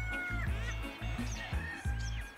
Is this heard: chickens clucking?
yes